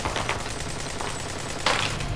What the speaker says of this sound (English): Gatling Cannon.